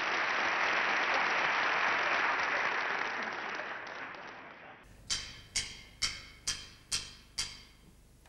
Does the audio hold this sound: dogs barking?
no